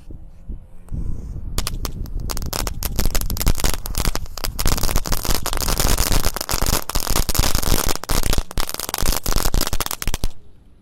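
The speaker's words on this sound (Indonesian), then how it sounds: "mercon telur dino pretek, kita nyalakan satu pak sekaligus guys" A pack of dino egg firecrackers goes off in a loud, rapid, continuous string of sharp cracks lasting about ten seconds before stopping.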